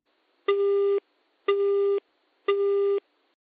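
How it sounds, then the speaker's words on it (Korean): Telephone disconnect tone after a call is hung up: three identical steady beeps, each about half a second long and evenly spaced by short silences, clear and close with no voices. "그러나 이미 전화는 끊어져 있었다."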